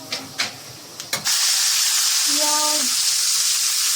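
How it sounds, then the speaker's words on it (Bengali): Chicken frying in a pan: after a few sharp knocks, a loud, close sizzle bursts in and continues as a steady hiss, with a brief voice-like tone in the middle. "মুরগি ভাজা।"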